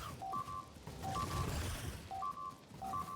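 Alert beeps from an incomplete wall in the factory-building video game Factorio repeat in short two-tone pairs at a quiet level, sounding in regular bursts over a low background rumble.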